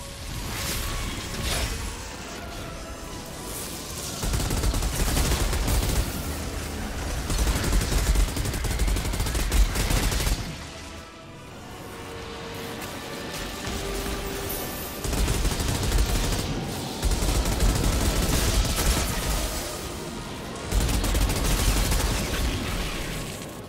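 Heavy sustained gunfire from enemies in the sci-fi shooter game Outriders: rapid automatic bursts and booms pour in in several long waves, loud and close, with brief lulls between them.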